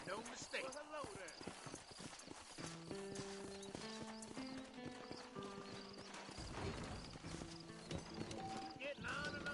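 Horse hooves clip-clopping with an occasional whinny in the Western video game Red Dead Redemption, heard close under a music score and spoken dialogue.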